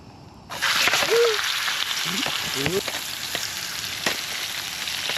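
Wagyu steak sizzling in a pan at a woodland wild camp, a steady loud hiss of frying that starts abruptly and carries on throughout, with a few faint clinks and scrapes along the way.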